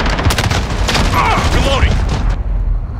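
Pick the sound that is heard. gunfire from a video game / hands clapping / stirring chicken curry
gunfire from a video game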